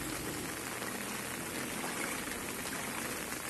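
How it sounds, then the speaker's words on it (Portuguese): Heavy rain pouring during floods in Ilhéus, Bahia, a dense continuous hiss of drops drumming on surfaces, steady and loud with no pauses, no talk. "a chuva não para de cair, na região"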